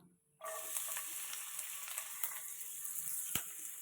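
Finely chopped shallots drop into hot oil for a Bengal gram curry, setting off a sudden, steady crackling sizzle that carries on evenly with a faint tap near the end.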